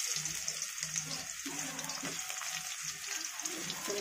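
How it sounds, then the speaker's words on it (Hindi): Chopped onions fry in hot oil with radhuni spice for a papaya and potato curry, giving a steady close sizzle and crackle throughout, with a soft murmur of a voice underneath at times. "चलिए प्याज को भून लेती हूँ।"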